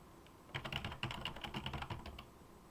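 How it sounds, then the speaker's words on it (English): Rapid, steady keystrokes on a computer keyboard, one continuous burst of close, clear typing lasting about a second and a half, with no voices. "I'll type something else."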